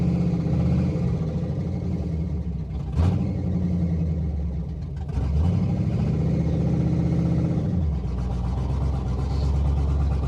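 A 1970 Oldsmobile engine with a weak battery runs rough and revs, rising and falling in a few uneven bursts with clattery low rumble close to the microphone, and no speech.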